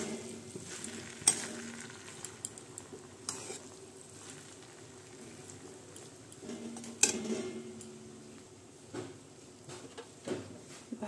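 Chopped tomato fries in a pan while being stirred, making a soft continuous sizzle with intermittent spoon scrapes and taps against the metal, close and quiet, with no talking.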